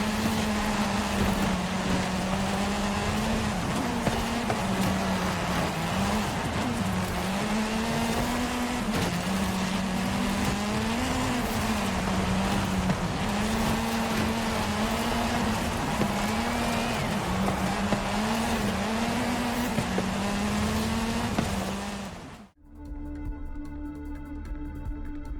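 Race cars in the video game Forza Horizon 5, a sustained engine drone with wavering pitch as the car accelerates and shifts, loud and continuous for over twenty seconds before cutting abruptly to a quieter game sound.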